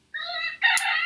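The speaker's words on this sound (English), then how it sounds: "If anyone's wondering what that sound is, it's the rooster." A rooster crows in two close bursts, a held call followed by a louder, rougher second phrase, fairly near and alone with no talking.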